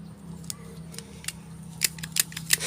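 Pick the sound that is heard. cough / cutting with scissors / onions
cutting with scissors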